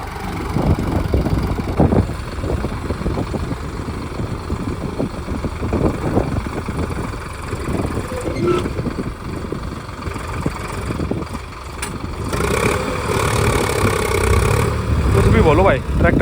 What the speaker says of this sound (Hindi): ट्रैक्टर में जान तो बहुत ज़्यादा है इस वाले में। फंस गया भाई।